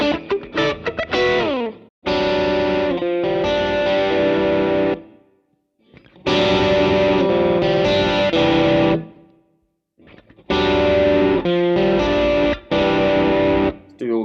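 Electric guitar through an overdrive pedal plays distorted, sustained chords and riffs in several bursts separated by short silences, loud and close, with no talking.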